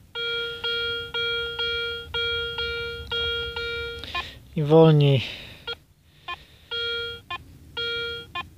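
A Solfernus v2.6 metal detector gives a run of regular electronic beeps as it sweeps a ground test, sometimes breaking up, with someone speaking briefly between the tones.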